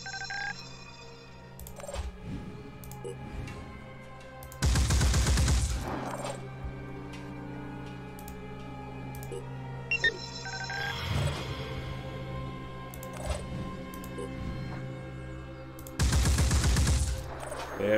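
Turret gunfire in the Phoenix Point video game comes as two loud, dense bursts of rapid automatic shots a few seconds long, separated by quieter stretches of game sounds and electronic tones.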